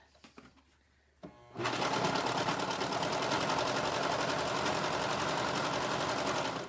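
A serger runs fast and steady while stitching the edge of a flannel washcloth, a continuous loud mechanical whir after a few brief handling clicks at the start.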